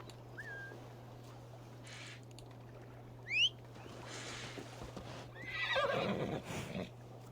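A horse in the Assassin's Creed video game gives a short sharp whinny near the middle, followed by rustling movement and hoof sounds over a steady low game hum, with faint bird-like calls and no talking.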